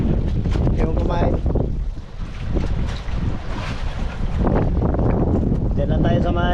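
Strong wind buffets the microphone aboard a fishing boat at sea, with waves and rough water rushing steadily throughout and people talking over the roar.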